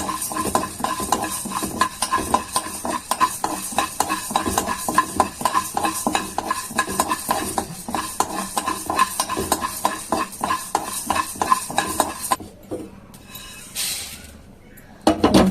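Ingredients for a bitter gourd sasive and palya dish roast in a pan while a spatula stirs and scrapes steadily, with soft sizzling and metallic clinks, close up, ending in a brief quieter pause.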